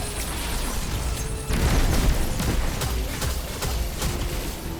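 A grenade goes off in a video game, a sudden loud boom at about the midpoint that lifts into a dense, sustained roar of blast noise mixed with rumbling battle sounds.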